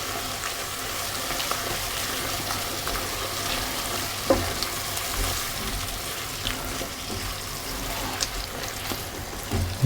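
Mustard being stirred into a hot pan for beef stroganoff, with a steady close sizzle, soft scraping of the utensil and a few small clinks over the ten seconds.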